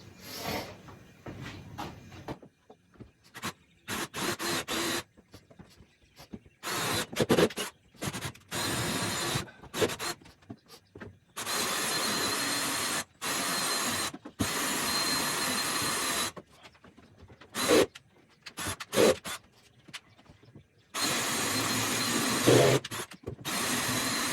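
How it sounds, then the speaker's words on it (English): A reciprocating saw cuts plywood during shed construction, sounding as repeated bursts of harsh buzzing separated by short pauses as the blade stops and restarts, fairly close and without speech. "make it big enough so that my reciprocal saw blade can fit in that hole, and I can cut around the edges"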